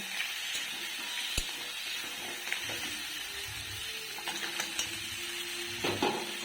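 Crabs frying in a spiced masala, with a steady sizzle and occasional scraping and clinking of a spoon against the pan, close and moderately quiet, no voices.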